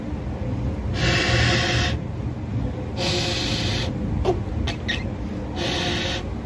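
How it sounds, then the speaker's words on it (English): Air blown through a freshly drilled, fully polished Yemenite shofar horn, heard as three breathy rushing bursts of about a second each, separated by short pauses, with a few faint clicks and no voices. "Let's hear the sound, how the air flows."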